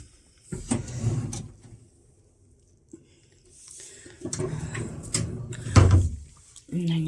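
Big deep drawers in a London hotel room being pulled open and pushed shut, giving a few wooden sliding rumbles and soft knocks close by, with someone talking around them.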